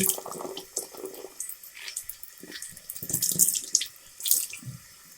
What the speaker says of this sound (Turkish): Göz altlarımı temizleyeceğim. Yıkıyorum.